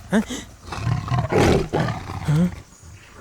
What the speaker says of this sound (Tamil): புலிப்பா.